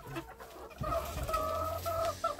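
Hens clucking on a farm while they wait to be fed: several near, steady cackling calls with a rooster-like drawn-out cry, over a quiet outdoor background.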